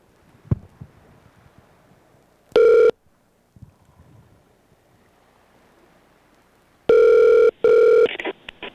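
A telephone dials with one short tone burst, then rings twice with long, loud, even rings after a pause, over a quiet background with a few faint clicks.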